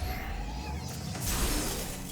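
A glass vault in Metroid Prime shatters, a dense burst of breaking glass over steady game background noise, loud and close.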